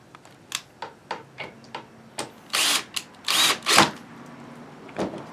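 A power drill drives longer screws into a wooden potato box: light ticking taps at first, then several loud, close whirring bursts of a few seconds each, with no talking.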